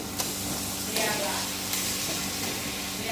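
Chicken cooks in a pan over scorched onions and tomatoes for an Arabic chicken curry. A continuous close sizzle runs throughout, with brief stirring bursts every second or so.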